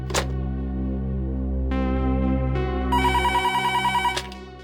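A telephone bell rings indoors in a police drama scene, with sustained ringing tones building into a rapid repeating trill near the end, loud and alone without talk.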